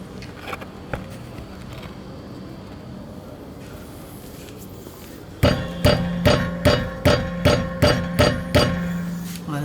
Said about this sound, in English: this is the noise of brake caliper pins